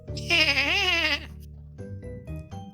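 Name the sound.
voice imitating a horse neigh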